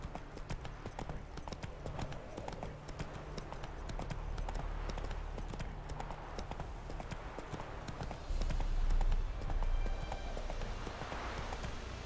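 Roach, the horse in The Witcher 3, gallops with a fast, steady clip-clop of hooves close by. The hoofbeats swell briefly louder partway through, over a low rumbling game backdrop.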